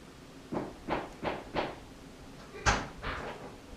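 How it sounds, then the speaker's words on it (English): A man stamps snow off his boots at a house door, a run of four evenly spaced dull thuds followed by a heavier knock and a couple of softer ones, moderately close in a quiet room. "You can actually hear him knocking the snow off his feet right now."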